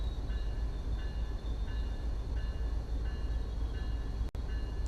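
A train rolls slowly into Jamaica station in the Train Sim World 5 simulator at about 15 miles an hour, giving a steady low rumble with faint repeating squeals and clicks and no talking.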